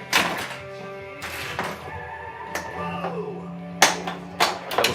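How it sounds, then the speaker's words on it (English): A Stern Foo Fighters pinball machine gives sharp mechanical thunks as its post pops up to stop the ball, with several distinct knocks spread over a few seconds amid ringing electronic game tones. "So the post pops up, stops the ball"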